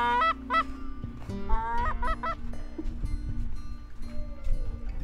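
Geese honk during a Cree goose hunt at Cross Lake, a run of repeated nasal calls from fairly close, set over low background rumble and no speech.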